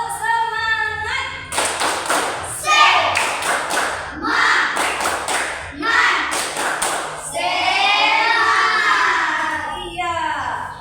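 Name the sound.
children doing a rhythmic spirit clap (tepuk semangat)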